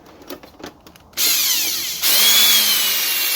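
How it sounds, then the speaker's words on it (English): A power drill bores a hole for a 50cc scooter's LED headlight wire, starting after a few soft handling knocks, then a loud continuous whine that steps up in pitch and stays close. "Now I'm just going to take that drill bit"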